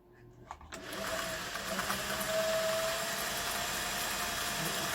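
A Singer 401A sewing machine starts up after a few faint clicks and runs at a steady whirring hum, close and even, with the needle's fast rattle continuing to the end.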